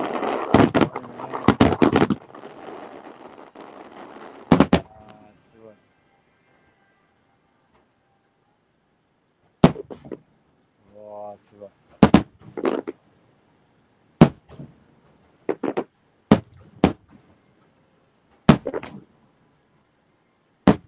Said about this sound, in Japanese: 花火の音聞こえてる？